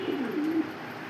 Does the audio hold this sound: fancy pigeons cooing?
yes